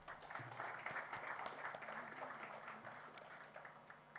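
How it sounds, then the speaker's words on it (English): Applause from a conference audience at a leadership event, a steady wash of many hands clapping, faint and distant, lasting a few seconds without speech. "Ladies and gentlemen, please applaud for Mr."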